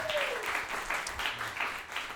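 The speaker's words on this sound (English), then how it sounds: "give the den a round of applause for having us be the new" An audience applauds at a live show, a loud run of clapping and cheering that swells in uneven bursts, with a faint voice briefly underneath.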